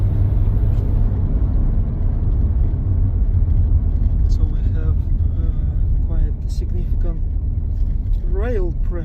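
A Dacia Duster 1.5 pulls hard in third gear at full throttle, its engine a loud, steady rumble close by while someone talks over it throughout.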